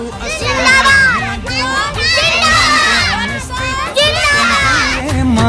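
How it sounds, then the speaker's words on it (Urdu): A group of children shouts Pakistan slogans together at a 14 August Independence Day gathering, loud repeated chant phrases rising and falling in bursts with crowd noise and adult voices mixed in. "یہ بچے ہمارے ساتھ مل کے ابھی نعرے لگائیں گے پاکستان"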